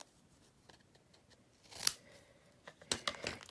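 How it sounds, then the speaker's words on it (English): Scissors snip through paper for a craft project, cutting it in half with a few quiet, close crisp cuts and rustles against a faint room background. "So I'm going to cut it in half."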